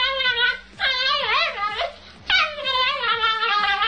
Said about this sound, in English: beautiful chihuahua.